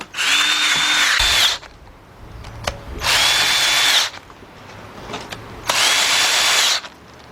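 Power tool tightening bolts on a 2003 Jeep Liberty Sport 3.7 engine, three sustained whirring bursts of about a second each with pauses between, close and loud.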